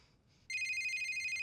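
A telephone rings in a scene from The Sopranos, a loud, steady electronic ring that cuts in abruptly halfway through after near-silence and continues without any talk over it.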